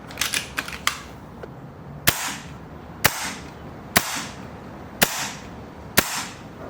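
A BRK Ghost air rifle fired repeatedly, sharp loud cracks spaced about a second apart after a quick cluster of shots at the start, each with a short decay.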